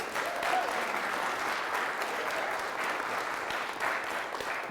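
A room full of people at a dealer congress clapping steadily, a sustained round of applause at moderate distance with no break.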